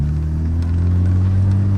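A twin-turbo Mazda RX-7 idles steadily at a drive-thru with a low, constant rumble throughout, close by and unbroken, with no voices.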